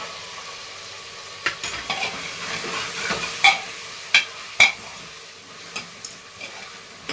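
Peanuts and potato sauté in a pan for moong dal khichdi, a soft steady sizzle broken by a series of sharp spoon clinks and scrapes against the pan.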